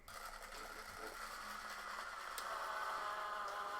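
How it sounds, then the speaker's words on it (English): A steady, quiet mechanical whir of model railway point motors switching track, with faint clicks and rattles over a low background hum, lasting a few seconds without speech. "Yeah, you can hear my point motors whirring away."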